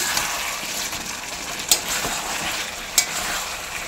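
Meat being stir-fried (kosha) in a pan, a continuous close sizzle with stirring scrapes and two distinct metallic clinks from a spatula, and no talking.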